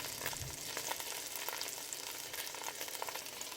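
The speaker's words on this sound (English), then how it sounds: "My butter is getting melted." Steady, crackling sizzle of butter melting in a hot pan, even and close, with no voices over it.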